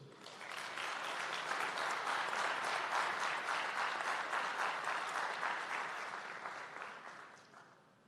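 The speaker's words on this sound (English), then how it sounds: "Give her a round of applause once more" Sustained audience applause fills the room at a national AI lab signing ceremony in Jamaica, a dense steady clapping that swells quickly and tapers off near the end, with no speech over it.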